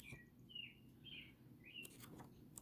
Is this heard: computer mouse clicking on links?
no